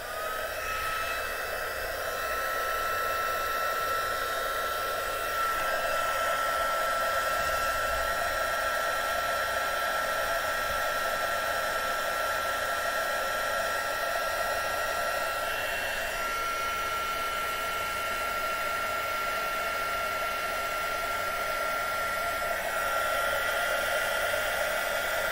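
A crafting heat tool blows with a steady, loud whooshing hum throughout, its pitch shifting slightly a few times as it is moved, with no talking.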